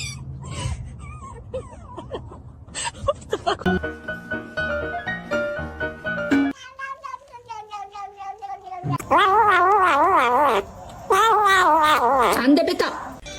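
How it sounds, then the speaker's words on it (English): A male cat meows and caterwauls repeatedly in loud, wavering cries, some drawn out and warbling, with stretches of music and other sounds in between. "He's a male. He's a very loving cat."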